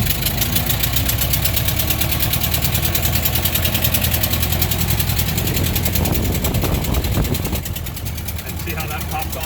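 A Ford Model T engine runs steadily after starting, a loud continuous mechanical idle with knocking pulses that eases off slightly near the end.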